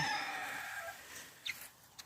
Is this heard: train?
no